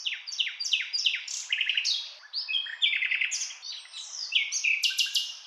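Cartoon parrot, pigeon and sparrow sing together: a lively run of bright, rapid chirps and warbling tweets, close and continuous, with repeated trilled phrases and no talking.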